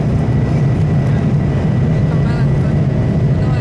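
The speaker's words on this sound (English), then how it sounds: "Give you a nice view of the takeoff" An airliner taking off from Estonia fills the cabin with a loud, steady engine roar and rumble that stays constant throughout.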